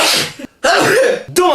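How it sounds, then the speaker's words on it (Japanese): Someone makes an exaggerated, strange sneeze in a silly weird-sneeze contest: loud, close, voiced bursts broken by a brief pause, then a final short burst. "聞いたことないくしゃみを出します"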